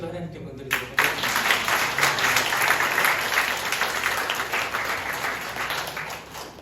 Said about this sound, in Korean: 우리 박수로 하나님께 영광 드리도록 하겠습니다.